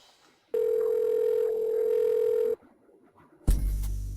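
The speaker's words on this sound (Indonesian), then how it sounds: "Aku akan telepon Feng Lin Group sekarang juga." A telephone call being placed: a steady, loud ringback tone holds for about two seconds, followed by a quiet pause and then a burst of broadband noise near the end.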